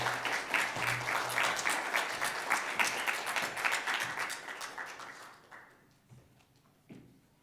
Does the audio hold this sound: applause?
yes